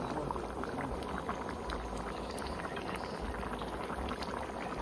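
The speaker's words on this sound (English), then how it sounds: "this will be a half boil." Vegetables and corn boiling in a pot of water, a steady low bubbling rumble with soft gurgles, continuous and fairly quiet throughout, with no voices.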